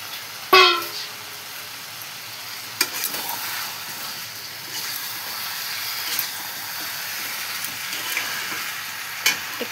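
Chicken and potatoes are added to hot masala in a pan, giving a quick loud hiss followed by a steady, fairly soft sizzle with occasional stirring clinks, heard close with no talk.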